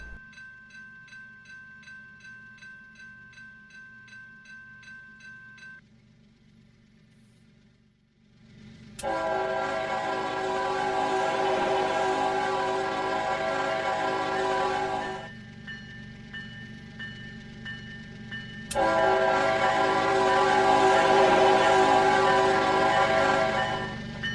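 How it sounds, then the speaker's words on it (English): A CSX freight train led by a single ES44AH locomotive passes through a high ball signal at Partridge in the Trainz simulator, with a bell ringing before the horn blasts in two long, loud sounds over a steady rumbling engine drone. "With a lone ES44AH 977 on the point, the train makes its way through a high ball here at Partridge."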